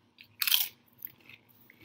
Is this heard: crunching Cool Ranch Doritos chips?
yes